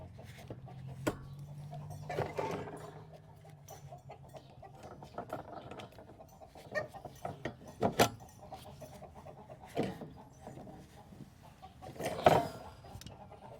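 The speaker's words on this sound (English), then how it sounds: "here the chickens are mad because they're not out yet" Chickens cluck and squawk in bursts, several birds calling irregularly nearby amid shuffling and thumps.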